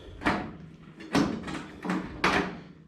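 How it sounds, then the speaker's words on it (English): A shimmed car door is opened and shut several times, giving four distinct thumps with brief rustling movement between them, close by and with no talk. "door opens and shuts so good now"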